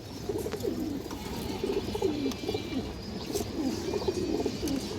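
Close pigeons coo in soft, rolling phrases repeating throughout, amid faint background rustle.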